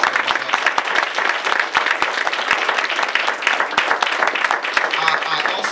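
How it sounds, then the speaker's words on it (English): Loud, sustained audience applause at a community youth event, dense clapping filling the room for several seconds with some crowd voices mixed in. "So I want you all to please give a round of applause for Dr. Willie Burrell."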